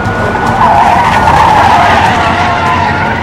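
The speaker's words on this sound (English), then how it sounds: "The suspect made off in this stolen, bulky truck, and now Officer Hales is in hot pursuit of" A stolen, bulky truck flees a police pursuit in Leesburg, Florida, its tires skidding and squealing loudly and continuously over a roaring engine, close and intense throughout.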